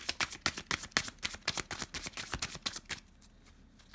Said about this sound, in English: Let's get you some of the tarot cards now.